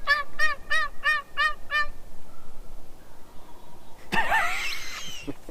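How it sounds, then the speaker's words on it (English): A rapid series of six gobbles rings out in quick succession from a wild turkey at moderate distance, followed by quiet outdoor ambience and a burst of rustling noise. "We got turkeys gobbling, folks."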